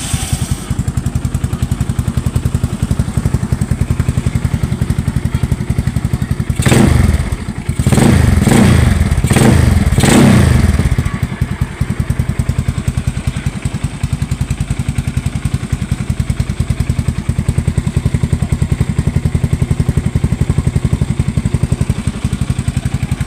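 A motorcycle fitted with a budget aftermarket exhaust pipe, run with no silencer, idles with a raw, steady rumble. In the middle it gives a quick series of loud, sharp revs, then settles back to idle.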